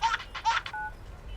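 A phone rings with short electronic tone bursts, two longer pulses and a brief third, followed by a fainter sustained beep, loud and close.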